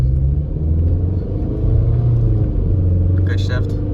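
A Toyota Camry engine idles with a steady low rumble while its U250E automatic transmission is shifted after a fluid drain and fill; the drone changes pitch partway through, and a brief voice is heard near the end.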